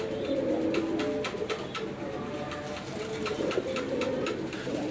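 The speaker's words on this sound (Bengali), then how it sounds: "এটাও রাজগোলা কবুতর, এটা কলসি বানের।" A Raj Golla pigeon of the Kolshi-ban type coos in low, repeated rolling phrases close by, with faint clicks and scratches around it and no speech.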